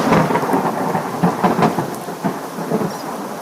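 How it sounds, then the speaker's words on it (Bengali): Heavy rain pours down steadily while thunder rumbles through it, loud and close, with no voices over the downpour. "হঠাৎ তাদের গ্রামে একদিন অনেক বৃষ্টি শুরু হয়"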